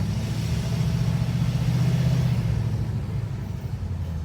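A 2011–2016 6.7 Powerstroke Super Duty diesel fitted with a cold air intake rumbles steadily while driving, its low engine note swelling with turbo spool for a couple of seconds before easing back.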